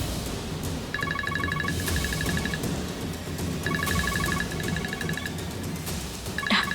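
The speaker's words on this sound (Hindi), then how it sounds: "डॉक्टर साहब का फोन।" A phone ringing with a call from a doctor: two bursts of a repeating electronic trill ringtone over a steady background bed, with a brief clatter at the end.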